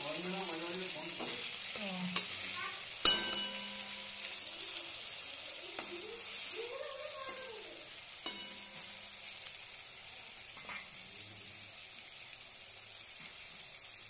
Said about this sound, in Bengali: তেলে আদাটা দিয়ে দিবে